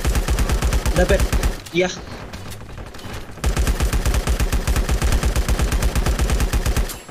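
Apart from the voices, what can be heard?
gunfire in LifeAfter mobile video game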